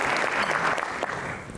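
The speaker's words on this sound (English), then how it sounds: "Please give them a round of applause as they work tirelessly for the betterment of our business environment and our chamber" Audience applause for a chamber of commerce board of directors at a State of the City event, a steady, dense wash of many hands clapping close by throughout.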